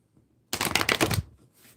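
Tarot cards being shuffled by hand in a single quick riffle of rapid, crisp fluttering snaps, close and distinct, lasting under a second before stopping.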